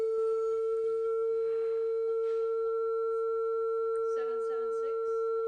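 A steady pure tone plays through a cymatics plate scattered with loose sand, a constant hum holding throughout, with brief faint voices in the background near the end.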